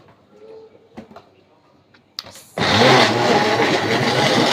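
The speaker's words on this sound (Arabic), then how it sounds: "نحط كمان الطماطم كله مع بعض كده عشان نشيل الخلاط" An electric blender switches on and runs loudly and steadily, chopping tomatoes after a few quiet kitchen clatters and a sharp clack.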